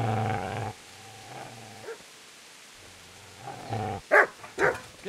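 Dog barking and growling in the medieval role-playing game Kingdom Come: Deliverance, with a run of close, loud barks and snarls, a quieter growling stretch, then sharp barks returning near the end.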